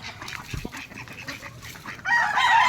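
A Machine Kelso gamefowl hen in a backyard breeding pen makes short, low clucks and soft vocal calls up close, followed by a brighter burst of higher bird noise at the end.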